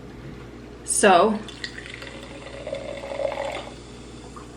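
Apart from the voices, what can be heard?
energy drink poured into a mason jar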